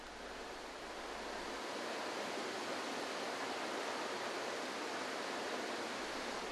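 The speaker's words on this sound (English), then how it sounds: "This creates strong turbulence in the water of the lower canal." Strong turbulent water churning in the lower canal of a 1:10 scale model of a navigation lock, a steady broadband rushing roar with no pauses, close and continuous throughout.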